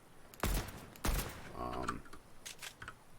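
Tap-fired weapon shots in Fortnite, two sharp loud bursts about half a second apart followed by fainter quick clicks, with a voice talking in between.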